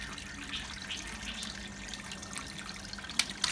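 A tap runs water into a balloon, a steady, moderately loud rushing hiss with a couple of sharper splashes near the end.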